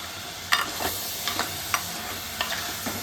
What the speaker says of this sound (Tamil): கொஞ்சம் இந்த தக்காளி மட்டும் குழையிற அளவு வதக்கிக்கலாம்